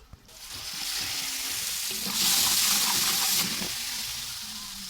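Ginger, garlic and green chilli paste sizzling loudly as it hits hot oil in a pan with fresh fenugreek, a steady close frying hiss that swells briefly midway and then settles.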